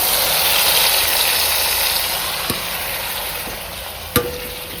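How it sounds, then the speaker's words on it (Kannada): Cumin seeds crackle and splutter in hot oil in a home kitchen pan, a dense continuous sizzle with a few sharp pops standing out near the end, close and fairly loud. "ಜೀರಿಗೆ ಹಾಕ್ಕೊಳ್ತಾ ಇದ್ದೀನಿ. ಇದು ಚೆನ್ನಾಗಿ ಸಿಡಿಬೇಕು."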